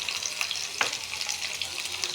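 Chicken meat sizzling in a pan, a constant close crackling hiss with one brief utensil scrape partway through, no one speaking.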